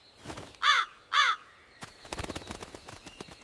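A crow in a Hindi cartoon gives two loud, harsh caws in quick succession, followed by a run of quieter clicking and rustling sounds, with no speech.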